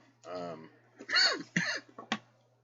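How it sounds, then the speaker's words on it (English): A short vocal sound, then a few harsh, close coughs in quick succession, each a rough burst of breath. "I don't know where this cough is coming from"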